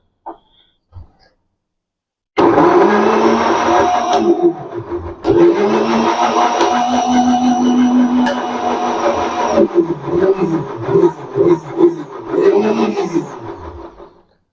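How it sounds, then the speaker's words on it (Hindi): A mixer grinder whirs loudly and steadily for several seconds, cutting out briefly and restarting, with a few faint knocks before it begins. "इस प्रकार आपको मिक्सी के अंदर ग्राइंडर करना है"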